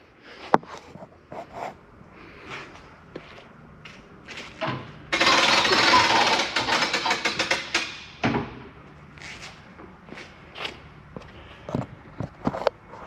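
A hand crank on a StarCraft Venture 2407 camper ratchets to tighten a cable, giving scattered clicks and knocks, then a dense, loud ratcheting burst lasting a few seconds, followed by further intermittent clicks and clunks nearby.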